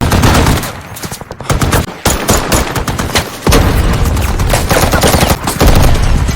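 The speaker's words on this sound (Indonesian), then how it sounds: "LRAS-2 pun terus ditembaki, yang membuat senapan otomatisnya rusak." Automatic gunfire in a war movie battle set in the Afghan valleys, loud, rapid bursts of close shots cracking in dense sequence with brief pauses, a sustained fusillade filling the scene.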